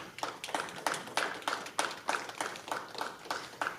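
Audience applause at a climate action event, sparse, evenly spaced claps in a steady rhythm, fairly faint and slightly distant, with no voices over them.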